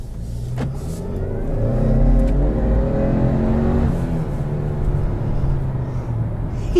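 A turbocharged 2021 Subaru Legacy XT engine rises in pitch as it accelerates, a steady rumbling growl that builds and holds, heard from inside the vehicle.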